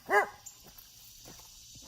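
A single sharp dog bark close by, followed by quiet background rustling.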